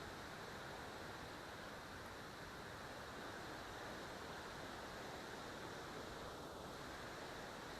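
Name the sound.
forest stream flowing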